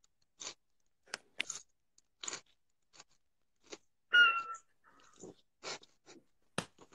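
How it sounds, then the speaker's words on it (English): Crunchy bites and chewing of a salad in a quiet room, sparse, close, irregular crisp crunches spaced across several seconds, with a brief squeak or faint noise in the middle. "I'm going to stay silent for a second so you can enjoy the sound of Lucas chewing"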